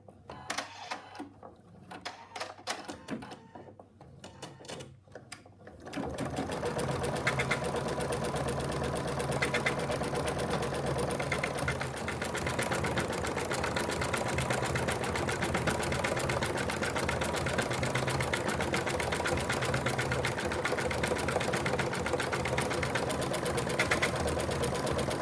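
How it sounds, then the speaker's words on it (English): An embroidery sewing machine stitches an outline around an in-the-hoop phone case, running as a loud, steady mechanical drone with rapid needle rhythm for most of the span after a quieter start. "this is the last stitch out, and it's going to go all the way around"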